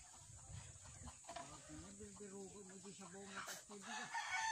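A rooster crows close by in a long drawn-out call, with hens clucking around it amid a busy outdoor background.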